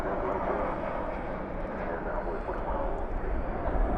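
A Sun Country airliner touching down at night at DFW airport, spoilers deployed and thrust reversers roaring; a steady broadband jet rumble holds throughout, swelling slightly near the end, with a voice faintly present.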